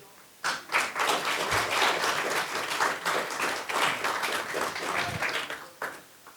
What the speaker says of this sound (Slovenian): Lepo prosim za aplavz